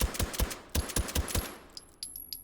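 Suppressed Luger LP08 pistol fired repeatedly in the VR shooter H3VR, a rapid run of sharp, muffled reports followed by a few lighter clicks and mechanical clatter, loud and close with no talking.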